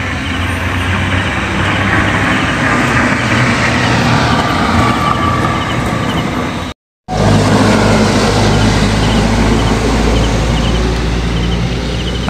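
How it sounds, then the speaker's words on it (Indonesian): A medium-size bus passing on a road in the small hours, heading toward Tempino: a loud, close, continuous engine and tyre roar that cuts out briefly, then swells again with a deep low rumble. "Ada bus medium mengarah ke Tempino teman-teman"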